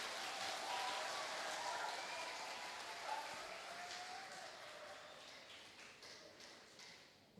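Audience applause at an academic oration and student oath ceremony, a broad steady patter of clapping that gradually fades over several seconds, with faint voices mixed in.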